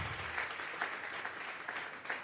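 A church congregation at a Sunday service claps together as an offering of praise, a moderately loud, continuous patter of many hands with a few rhythmic swells.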